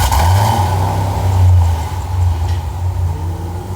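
A car engine fires up and revs, a loud close rumble that swells briefly, then settles into a steadier running note.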